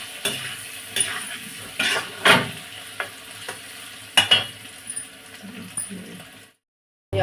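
Potatoes frying in a pan with a steady soft sizzle, broken by repeated scraping and stirring strokes of a spoon against the metal, close and moderately loud, ending in a brief silence.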